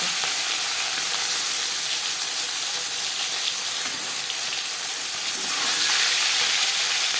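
Snakehead fish and fish heads fry in hot oil in a wok with a loud, continuous crackling sizzle that stays dense and steady throughout.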